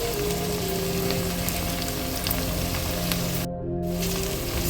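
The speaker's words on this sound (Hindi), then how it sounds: "उसके बाद सबसे पहले मैं डाल रही हूँ खड़े मसाले, बस थोड़ी क्वांटिटी में डाल रही हूँ।" Whole spices frying in hot oil with onions give a loud, dense, continuous sizzle close by, like heavy rain on a surface, with no voices.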